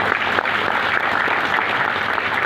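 Audience applause at a life-coaching leadership event in India, a dense steady burst of clapping that fills the whole moment at close range with no voices on top.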